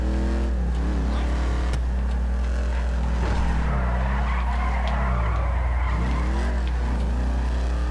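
In GTA 5 a car slides and skids, tires squealing in long sweeping tones over a steady loud engine drone, with a couple of sharp bumps and no talking.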